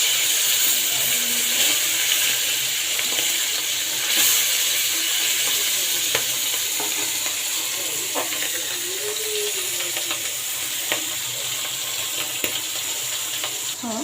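Hilsa fish fries in hot oil in a pan, a steady close sizzle and crackle holding throughout with occasional faint clinks, and no talking.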